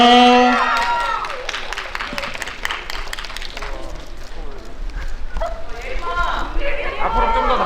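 Fans applaud at a cinema stage greeting after a film screening, clapping and cheering that rise and thin out while a host talks over them through a microphone.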